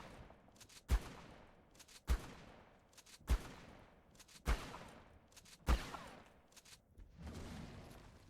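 Shotgun blasts in the video game ARK, five evenly spaced heavy booms about a second apart, each with a decaying tail, fairly quiet overall, followed by a softer rumble.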